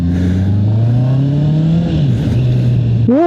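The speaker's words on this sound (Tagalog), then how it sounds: "Kumambyo ako. Bawas tayo. Grabe, may auto-blip ka." Honda CBR650R E-Clutch sports bike engine revving hard, its steady note climbing before dipping and then a sharp automatic throttle blip on downshift near the end, loud and close throughout.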